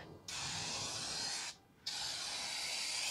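A two-component clear coat hisses out of an aerosol can in two sustained bursts, loud and close, separated by a short pause.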